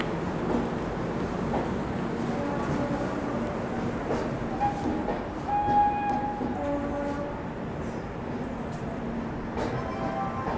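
A brand-new LHB Garib Rath passenger train, 22406 to Bhagalpur, departs Anand Vihar station with a steady low rumble of rolling coaches and a few horn blasts midway, heard from the platform.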